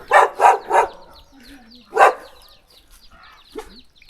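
A dog at a home in a small forest settlement barks three times in quick succession, pauses, lets out one more sharp bark, then gives a faint short yelp, all fairly close and clear.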